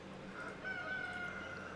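Chickens in the farming village game Ostriv cluck and crow over a quiet game background, with a short, fairly soft burst in the middle and no talk.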